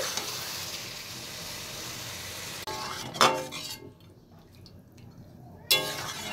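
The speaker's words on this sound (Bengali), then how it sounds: "এবার আমি জল অ্যাড করছি।" Chicken that has been browned in a pan sizzles under a few utensil clinks, then water is poured in with a sharp hissing burst that quickly dies down before another clatter of the pan.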